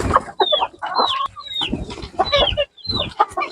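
Several farmyard chickens cluck close by in short, overlapping bursts, with quick gaps between calls; no one speaks.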